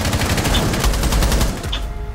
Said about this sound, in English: We were all shooting into the smoke